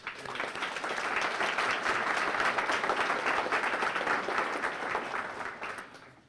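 Dense, sustained applause from a crowd at a chamber of commerce meeting, swelling quickly and holding steady for several seconds before tapering off at the end.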